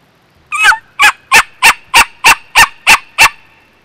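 A tube turkey call played by mouth imitates a turkey gobble, a close, loud rapid series of about nine sharp, evenly spaced yelping notes with no talking.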